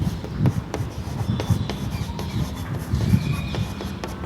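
Chalk or marker scratching on a board as someone writes in a classroom math lesson, with short strokes and taps in a busy, continuous rhythm close by, with no voices.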